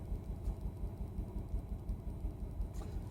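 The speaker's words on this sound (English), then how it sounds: "Can you hear the car? Chug, chug, chug, chug." A Volvo XC90 T5 engine with a misfire idles with a low, uneven chugging rumble that lurches irregularly, steady and close throughout.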